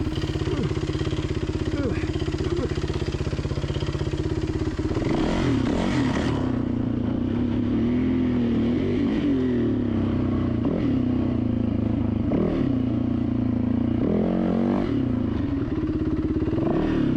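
An enduro dirt bike rides down a steep rocky slope, its engine loud and close throughout, with throttle blips, revving surges and rattling clatter from the terrain, and no pauses.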